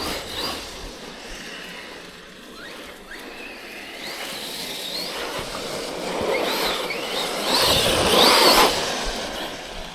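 An Arrma Big Rock V3 plastic RC car drives off, a whining electric motor rising and falling with throttle bursts over gritty tire crunch, growing louder toward the end.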